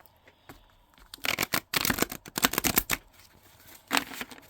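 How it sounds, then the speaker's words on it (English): Tarot card deck shuffled by hand and split into piles: rapid riffling, flapping card bursts in several bouts with short pauses, close and fairly loud, no talking. "I'm just going to do a traditional shuffle and split the deck."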